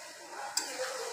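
Hilsa fish fry in mustard spice paste with a close, steady sizzle and a single short scrape of stirring midway, brief and with no talk.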